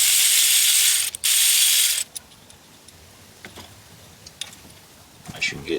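A ratchet wrench works the camshaft bolt on a Dodge Challenger Scat Pack 6.4 engine, with a loud burst of rapid clicking followed by faint metallic ticks and scattered clicks.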